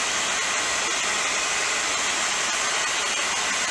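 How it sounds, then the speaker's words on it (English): A simple hair dryer blows steadily, a continuous close whooshing roar heating metal parts before a Tactical Black Duracoat finish, with no talk over it. "just a simple hair dryer to heat the metal up"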